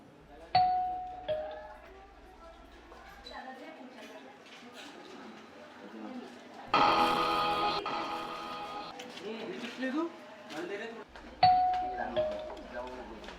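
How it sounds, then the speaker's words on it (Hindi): A doorbell chimes three separate times, each a clear ringing tone that fades out, with a burst of other sound between the rings and people talking quietly in the background. "सलमान खान के लिए एक डोरबेल बना रहा हूँ"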